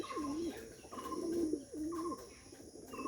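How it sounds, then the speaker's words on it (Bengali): Bombay pigeons cooing, a pair giving repeated low, wavering coos in a steady rhythm, close and clear with faint background noise and no talking. "অনেক সুন্দর ডাকে বোম্বাই"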